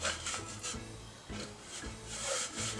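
Close, quiet rubbing on a wooden surface, cloth swiping back and forth in uneven strokes.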